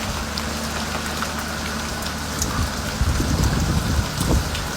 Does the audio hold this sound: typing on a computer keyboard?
no